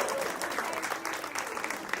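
Applause for the two mothers at a destination wedding at Alila Fort Bishangarh, a steady clapping crowd heard under a busy, reverberant room, with some voices mixed in.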